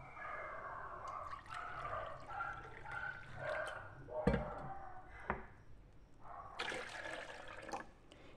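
Milk is poured into a 200 ml measuring cup in a home kitchen while making a chicken and bacon pie, with soft splashing liquid sounds, gurgles and a couple of knocks, fairly quiet and close.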